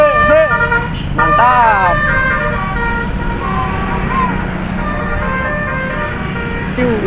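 A passing bus sounds its telolet musical horn, loud near warbling melodic tones rising and falling in quick phrases, then fainter tune fragments as it moves on, with people talking and cheering over the engine rumble.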